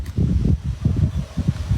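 Wind blowing outdoors around a shared worker house, heard as a low, uneven rumble buffeting the microphone in short gusts, with no talking.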